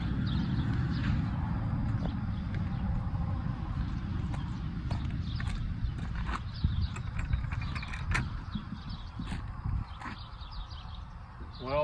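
Horses on a cattle farm heard amid steady low outdoor rumble, with scattered thuds and clip-clop-like knocks and faint bird calls at moderate distance.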